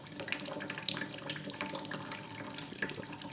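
Water rushes through a slowly opened valve in a Reynolds number laboratory experiment, a continuous close splashing flow like a running tap, with small gurgles and splashes over the steady hiss.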